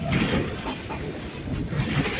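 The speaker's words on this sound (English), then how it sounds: "Our train is big, it is loud, and it is very heavy." A heavy train of the Stone Mountain Park Scenic Railroad rumbles along the tracks with a steady low roar and faint rhythmic clatter, fairly close, no voices.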